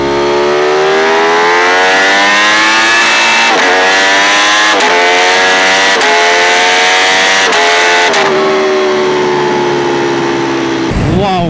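A Ducati Panigale V4 Speciale sport motorcycle accelerates hard in first gear, its loud, close engine whine climbing steeply in pitch through repeated rising sweeps, each cut briefly by a shift or throttle break.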